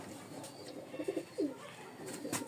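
Pigeons kept in a home loft coo softly in a couple of short bursts midway, fairly faint against a steady background hiss.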